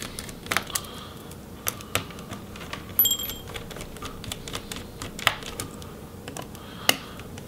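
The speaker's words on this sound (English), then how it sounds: "So let's go ahead and remove those battery screws." Battery screws on a Lenovo Legion Y530 laptop worked with a screwdriver, a scattered series of small sharp clicks and taps close up over a quiet background, with no talking.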